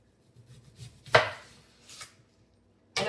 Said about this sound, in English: Let's cut up an onion.